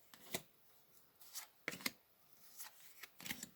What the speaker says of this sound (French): on va placer les cartes en forme de croissant